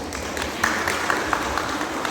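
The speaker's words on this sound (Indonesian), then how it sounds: "Tepuk tangan semua" An audience at a parenting seminar for parents and teachers applauds in a dense, steady wash of clapping that lasts the whole moment, with a few sharper claps standing out.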